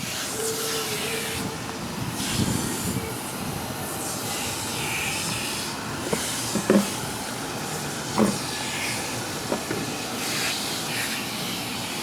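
Cleaner is sprayed onto an RV air conditioner coil, giving a sustained, breathy hiss with a few brief bursts and clicks close by.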